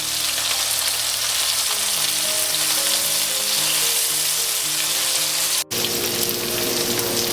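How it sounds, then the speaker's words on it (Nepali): Chicken pieces for butter chicken masala frying over medium heat in a pan, giving a loud, steady sizzle with occasional stirring, a brief dropout near the end, and soft music underneath. "चिकनलाई राम्रोसँग फ्राई गर्नुपर्छ र बेला बेलामा चलाइदिराख्नुपर्छ।"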